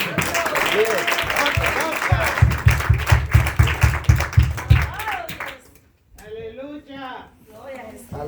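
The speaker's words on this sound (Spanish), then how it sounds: "Denle un aplauso al Señor" A church congregation at a Spanish-language service applauds together, building into loud, rhythmic clapping that fades away before a voice begins speaking.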